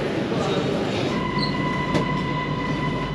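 Metro train running through a station on the Hangzhou subway in China, a loud steady rumble with a faint squeal of wheels.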